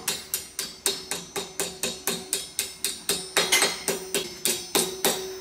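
A hammer strikes metal wire on an anvil in a steady, even series of about twenty sharp, ringing blows, close by, with no other sound.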